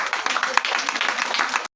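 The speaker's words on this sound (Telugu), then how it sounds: "ఒకసారి గట్టిగా చప్పట్లు కొడుతూ" Dense, loud clapping from an audience at a home Christmas function in Choppella near Ambedkar Colony, a steady burst of many hands lasting under two seconds before cutting off.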